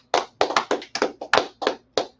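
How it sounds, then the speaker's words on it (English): A congregation at a Sabbath service claps in a fairly steady rhythm, about nine close, sharp claps over a couple of seconds, with a low hum underneath. "Clap it up."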